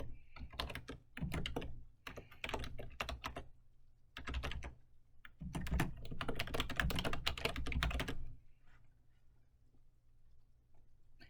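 A session name typed on a computer keyboard, bursts of quick soft key taps separated by short pauses, close and faint.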